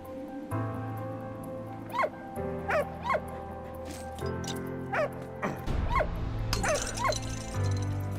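A dog in the World War I video game Valiant Hearts gives a series of high whimpers and short yelps at regular intervals over a steady game soundtrack drone, fairly close and clear.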